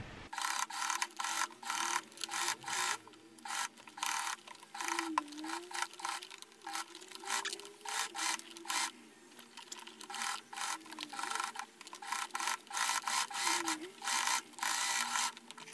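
A sewing machine stitches around a handbag seam in rapid bursts of mechanical chatter, stopping and restarting many times, with faint speech underneath.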